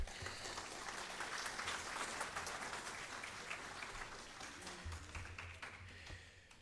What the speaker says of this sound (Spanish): Lo recibimos con un fuerte voto de aplauso, por favor.